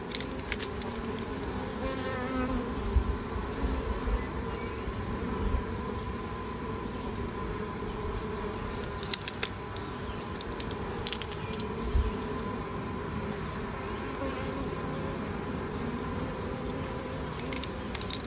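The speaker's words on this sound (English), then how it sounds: "Bees are on a little bit of a nectar flow up here." Honey bees, Italian stock on a nectar flow, buzz steadily around an open hive outdoors, a dense continuous hum with a few brief louder passes near the listener.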